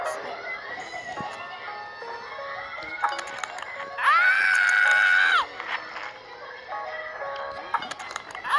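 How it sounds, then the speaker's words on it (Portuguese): During a video game, a loud, sustained scream rises over a noisy background of crowd chatter and game sounds, with shorter shrieks before and after it. "Que grito foi esse?"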